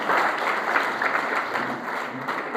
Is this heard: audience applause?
yes